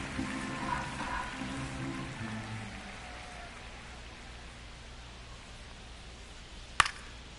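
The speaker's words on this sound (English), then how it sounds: "This rain is not letting up." Steady light rain hissing during a baseball game in MLB The Show 25, a soft continuous wash with faint background hum early on and one sharp click near the end.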